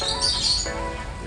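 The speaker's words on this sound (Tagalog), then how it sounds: "ibon natin sa Biopigeon. First time nilang nakalabas." Young yearling racing pigeons out of their loft for the first time, with chirps and squawks over a steady outdoor background and possible wing flaps, no talk.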